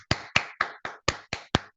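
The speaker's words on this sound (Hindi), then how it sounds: "राकेश पंडित जी के पहले जबरदस्त तालियां।" Clapping during a learning session: eight crisp, evenly spaced claps in quick, regular rhythm, close and clean with almost no background.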